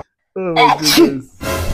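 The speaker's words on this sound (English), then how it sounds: "Sorry for sneezing" A man sneezes once, loud and close, just after a short burst of casual talk from nearby speakers.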